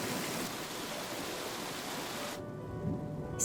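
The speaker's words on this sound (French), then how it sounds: "Lorsqu'ils deviennent assez lourds, ils se déversent en pluie diluvienne." Heavy torrential rain in the Great Rift Valley, a dense steady roar of falling water that cuts off abruptly near the end.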